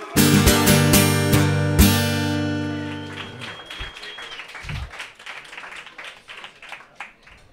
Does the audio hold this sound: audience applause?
yes